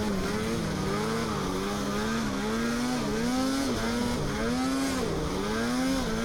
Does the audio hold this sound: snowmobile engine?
yes